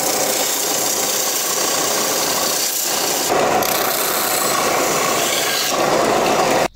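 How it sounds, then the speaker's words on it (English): A belt sander grinds steadily against a piece of wood, giving a loud continuous rasping whir with slight shifts in pressure, running alone without talk. "I'll rough this section up on my belt sander"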